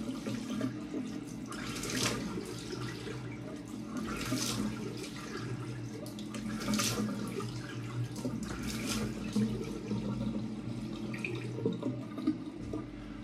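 A bathroom tap runs steadily while a face is rinsed after a shave, water splashing in a sink with soft surges of flow and no talking.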